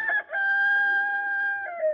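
A rooster crows once, a loud, drawn-out, close call with a brief break near the start and a falling end, with no talking.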